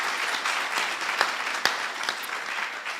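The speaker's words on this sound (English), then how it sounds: "can you give warm applause to these fabulous speakers?" Conference audience at a digital policy forum gives a round of warm applause, moderately loud and steady, with a few sharper individual claps standing out.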